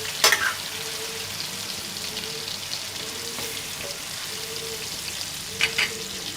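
Fish frying in a pan for biryani, a soft steady sizzle with occasional stirring clinks near the start and end, faint and close with no talk.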